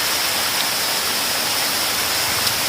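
A first-tier village waterfall with low water flow gives a steady, unbroken rush of falling water, even in level throughout and heard alone.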